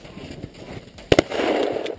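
Shotgun fire on a snowy bird hunt: two quick sharp blasts in close succession, loud and near, followed by a wide rushing sound amid outdoor ambience.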